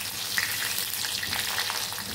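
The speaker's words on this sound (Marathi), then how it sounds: "आपण आता ही छान भेंडी स्लो फ्लेमवरती छान फ्राय करून घेणार आहोत" Okra fries over a slow gas flame, giving a soft, even sizzle that holds steady throughout, close and quiet with no speech.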